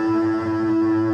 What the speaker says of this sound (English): But I played at first just this double stop. Right? But when you add distortion,